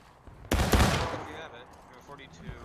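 Musket volley in the Civil War game War of Rights, a sudden loud crackling burst of many shots together that fades into echoing pops, with voices faintly underneath.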